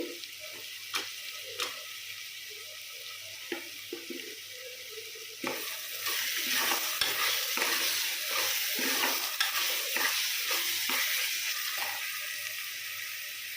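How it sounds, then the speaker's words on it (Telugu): Masala for a goat head curry fries and gets stirred in a pan, a steady sizzle that swells louder about halfway through, with repeated scraping strokes and clinks of a spoon against the vessel. "ఇది బాగా పచ్చివాసన పోయే వరకు వేయించుకుని కారం సాల్ట్ పసుపు వేసుకోవాలి"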